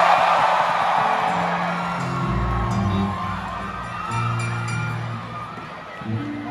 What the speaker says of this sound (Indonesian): yang berasa asik teriak dulu dong suara lo